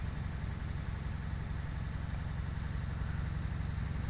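Simulated truck engine in Euro Truck Simulator 2 droning steadily with a deep low rumble, holding an even, continuous tone throughout with no voices.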